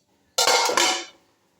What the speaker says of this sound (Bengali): জল দিয়ে এটা আমি 2-3 মিনিটের জন্য একটু ঢাকা দিয়ে দিচ্ছি।